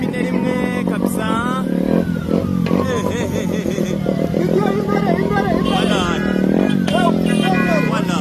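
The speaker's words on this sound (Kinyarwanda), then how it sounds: "dore umutipe ukata moto ku ipine" A motorcycle ridden on one wheel in a wheelie stunt at a crowded outdoor campaign rally in Rwanda, its engine revving and rising in pitch loudly over steady crowd babble.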